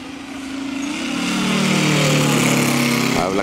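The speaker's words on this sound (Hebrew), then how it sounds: "אתה פותח מנוע, אתה צריך שיצרח כמו אחרים, והוא לא צורח" A Moki 150 radial engine on a Ziroli Stearman model plane rising to a loud, sustained roar that holds steady, then drops off abruptly at the end.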